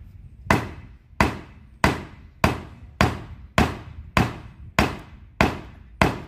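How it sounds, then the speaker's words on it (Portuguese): A hammer strikes kimberlite rock nine times in a slow, even rhythm, each blow a sharp close crack followed by a short ringing decay, with quiet pauses between hits. "vamos quebrar para ver um pouco dessa rocha"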